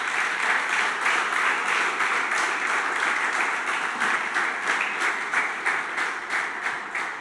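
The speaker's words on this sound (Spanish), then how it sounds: "¿Por qué no le das tu mejor aplauso entonces?" A church congregation breaks into hearty applause during a Spanish-language service, a dense, even roar of many hands clapping that holds steady and then eases off slightly near the end.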